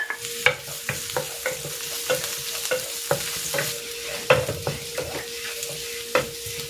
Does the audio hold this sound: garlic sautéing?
yes